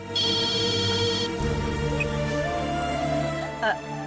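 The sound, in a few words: phone ringing with an incoming call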